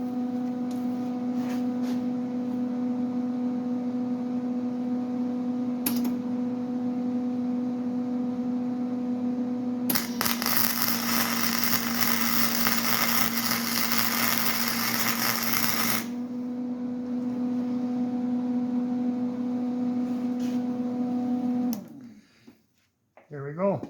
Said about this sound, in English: Now I'm going to do a little weld right in here.